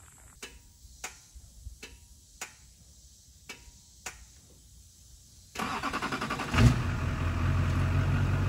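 A Duramax diesel pickup (LB7, LLY or LBZ) sits through a run of slow, evenly spaced ticks, then its engine catches and settles into a steady, loud idle with a brief surge partway through.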